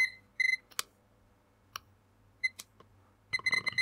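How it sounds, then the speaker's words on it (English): A BBQ temperature probe alarm gives short, sharp electronic beeps in separate bursts, followed by a rapid cluster of beeps near the end, with faint clicks in between and no talking. "This is already beeping."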